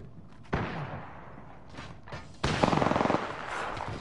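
Gunfire in the battle royale shooter Apex Legends: a sharp burst opens the exchange, then after a lull a heavier stretch of rapid automatic shots rattles in a fast, even rhythm, loud and close over a constant low rumble.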